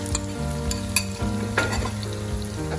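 Chicken with tomato paste frying in a pan, with close scraping and stirring strokes over a steady sizzle, a few sharp utensil clinks standing out, and no voices.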